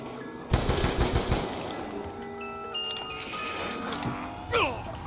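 In the zombie shooter Old Sckool Zombies, a burst of rapid automatic gunfire cracks out early, followed by scattered metallic clinks and further shots. Game sound effects fill the background.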